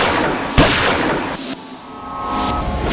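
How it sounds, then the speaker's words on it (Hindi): Gunshots fired at a woman ring out as sharp, loud cracks, one strong report followed by fainter bangs, against a dense noisy dramatic background. "गोलियों की आवाज सुनकर वहां लोग तो इकट्ठा हुए"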